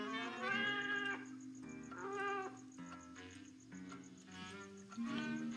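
A cat meows loudly and close by, several long drawn-out cries in a row with brief pauses between them.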